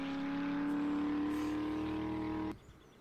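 A car engine in the survival game 7 Days to Die drones at a steady idle with a sustained hum, then cuts out abruptly near the end, leaving a quiet hiss.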